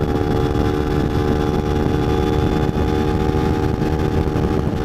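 A car engine revs hard during a flyby on the road, a loud, steady roar that holds close for the whole stretch, with no voices over it.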